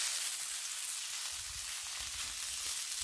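A ground beef patty sizzles steadily on a Blackstone griddle, a soft continuous hiss with faint low crackles, close and unaccompanied by voices.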